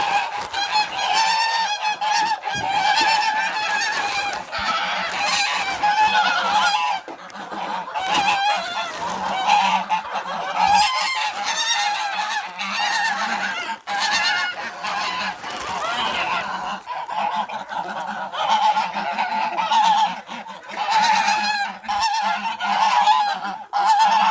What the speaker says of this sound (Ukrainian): Гуси зі своєї сторони кричать, бо хочуть трави.